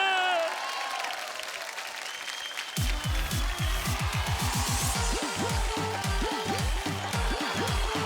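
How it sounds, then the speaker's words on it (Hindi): A studio audience applauds to welcome a guest on a Hindi comedy show, with dense, steady clapping that starts abruptly and carries on strongly, with no talk over it. "तो जोरदार ताली से स्वागत की जा रहा है हमारे सोशल बाबा।"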